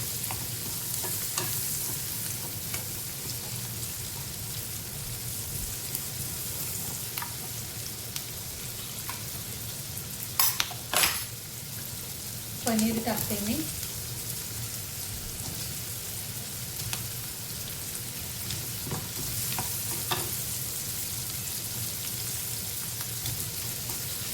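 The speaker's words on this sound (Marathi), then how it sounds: "कांदा आपल्याला जास्त पण लाल करायचा नाहीये" Onion frying in a pan for a quesadilla, a long even sizzle with crackling patter like rain, broken midway by a few sharp clinks and scrapes of a utensil.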